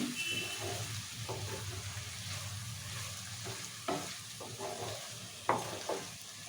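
Spoon stirring ridge gourd curry with chopped coriander in a pan over a low flame, a steady soft sizzle with a few scraping knocks against the pan, close and without speech.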